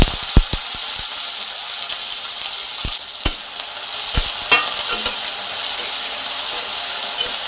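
Potato pieces dropped into a pan of frying green chillies for a fasting dish, loud sizzling with sharp clattering hits of a spoon as they are stirred, close and busy throughout.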